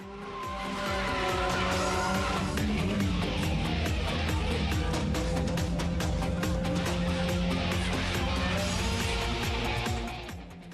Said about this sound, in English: They love the burnout spectacle.